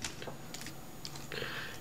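A toothbrush scrubs the keyboard of a late 2006 MacBook in short, scratchy, close-up bursts that sound much like rapid typing, with quiet pauses between strokes.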